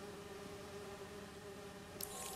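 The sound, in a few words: robot bees buzzing in Spider-Man 2 video game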